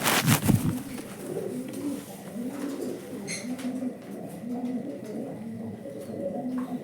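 Pigeons on a pigeon farm give repeated low, throaty coos in a steady rhythm, close by, after a louder flutter of movement at the start.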